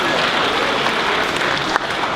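An audience at a student app demonstration applauds in a thick, continuous burst of many hands clapping, steady and fairly loud for about two seconds, with a single sharper clap standing out near the end.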